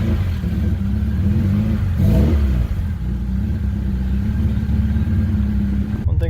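Car engine catching after a jump start from a dead battery and then idling with a brief rev, a loud, steady, close rumble running throughout.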